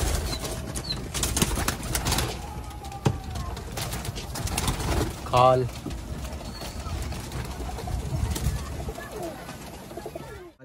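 Pigeons coo softly in the background in Delhi while people talk nearby, with an occasional flutter of wings.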